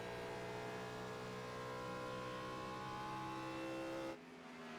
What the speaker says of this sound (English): Aiden trying to drift that car in 3 and 4 out of celebration